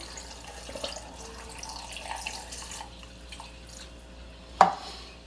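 Water is poured into a container for a fruit smoothie, making a soft, brief trickle and splash nearby, followed by a sharp clink near the end.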